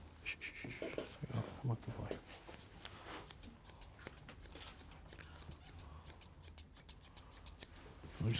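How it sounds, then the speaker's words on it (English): Chunking scissors snip through a Lhasa Poo dog's coat in quick, close, crisp bursts of clicks, with a groomer talking softly over the start and the dog panting faintly. "chunkers help do that because they add a bit of texture to the coat rather than cutting"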